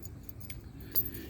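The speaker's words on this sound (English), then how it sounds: "I forgot to get the keys, but oh wait, no, I got them right here." A ring of keys for a 1995 Honda VLX motorcycle jangles briefly and softly, with one brighter metallic clink near the end over a low background rumble.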